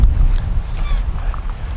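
North-east Nord-Ost wind blowing at the seaside in Anapa, a loud low buffeting rumble against the microphone that gusts continuously through the moment.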